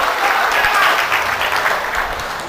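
Audience applause fills the space steadily, a dense, loud wash of clapping from a crowd that holds evenly for the whole stretch, with no voices standing out.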